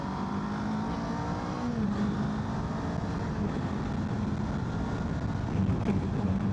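Kawasaki KLE 500 SE on dual-purpose tyres cruising at 70 mph on a national-limit road: a constant loud roar of wind noise blends with the steady drone of the engine, continuous and unbroken.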